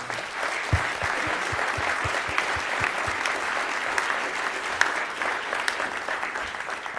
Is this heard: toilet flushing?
no